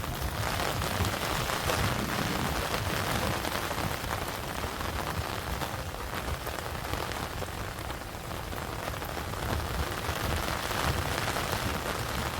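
Monsoon rain of the first Sawan downpour falls steadily and heavily, a dense, unbroken hiss of drops striking surfaces nearby, with no voices.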